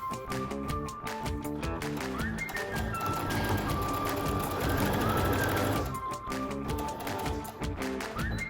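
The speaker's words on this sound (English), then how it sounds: "take your pieces to the sewing machine and sew the top and side seam" A sewing machine stitches the top and side seams of fabric pattern-weight pieces, its needle tapping rhythmically with a rapid run in the middle, under light background music.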